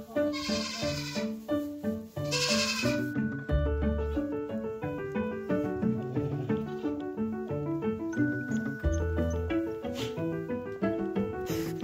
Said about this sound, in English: So we got some surprise lambs.